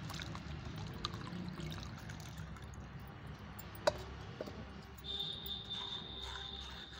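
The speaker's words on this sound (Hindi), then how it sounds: "इस पानी में इसको हमें अच्छी तरीके से छान देना है दोस्तों" A homemade ground fertilizer mixture strained into a 15-litre bucket of water, giving a faint, steady trickling pour with a few small clicks, soft and low against background hiss.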